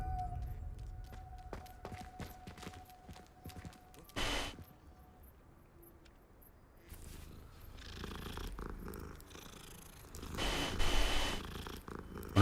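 A cat in the Hogwarts Legacy video game purring while being petted, a soft continuous rumbling purr that runs throughout, joined by scattered clicks and a few brief louder bursts of game sounds.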